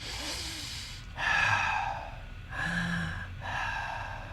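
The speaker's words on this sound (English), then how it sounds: "Breathe in, breathe out." Slow meditation breathing: several long audible inhales and exhales, airy and close, with brief pauses between breaths.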